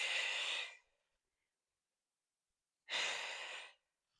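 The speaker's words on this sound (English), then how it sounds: "And then we're gonna exhale" Two strong, close exhales during an advanced diastasis recti ab workout with a dumbbell, each a breathy rush lasting under a second, separated by a couple of seconds of silence.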